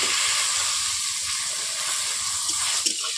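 Pointed gourd (potol) pieces fry in a pan with a constant bright sizzling hiss, close and fairly loud, holding steady throughout with a few small pops near the end.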